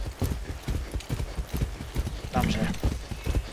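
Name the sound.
horse hooves in the video game Far Cry 6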